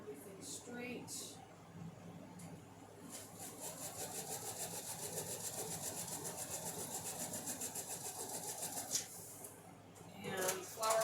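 A sewing machine stitches quilt block pieces together for a zinnia block, a soft steady rapid whirring run lasting several seconds, faint and close, with brief handling noises before and after.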